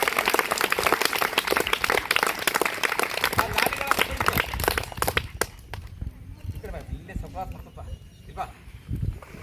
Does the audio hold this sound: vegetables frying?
no